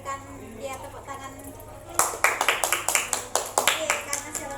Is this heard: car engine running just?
no